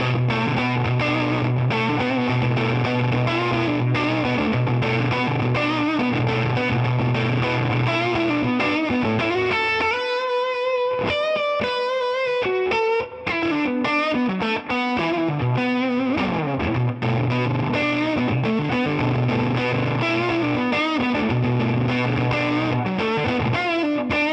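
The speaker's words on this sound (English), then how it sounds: "So this is the neck pickup tone with the fuzz." A heavily fuzzed electric guitar on its neck pickup plays thick, saturated chords and riffs, with a brief thinner, choppier passage midway before the full distorted tone returns.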